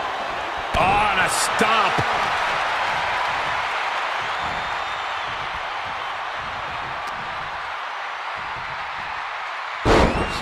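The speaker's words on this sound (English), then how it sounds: "you hear this capacity crowd following you on that journey" A capacity arena crowd roars steadily throughout a WWE 2K23 WrestleMania XL match between The Rock and The Undertaker, a continuous wash of cheering with louder slam thuds early and near the end, while a commentator talks over it.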